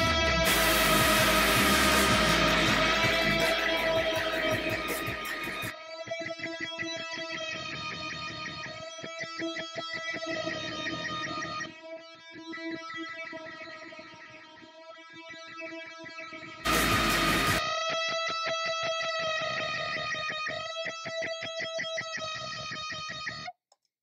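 Two electric guitar parts play together in a studio-style recording, one an octave higher with a capo, with string bends; a loud distorted chord burst opens and returns midway between layered picked melodic lines.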